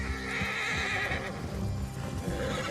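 Horses neigh and whinny in the video game Red Dead Redemption 2, along with soft hoof clip-clops and a low ambient background. The sound carries clearly at moderate volume, with no one talking.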